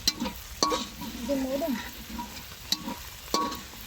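A large snakehead (gajar) fish from a beel sizzles faintly as it fries in a pan. A few sharp clicks of stirring and scraping break through the low, steady frying noise.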